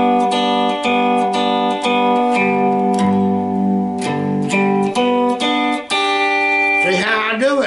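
Lap steel guitar skip-string playing, plucking pairs of strings in a run of bright twangy notes with sliding pitch, loud and close, ending in a wavering glide.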